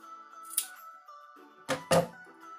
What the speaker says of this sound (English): inside the loop you're going to cut it with the scissors so that it frees up the ends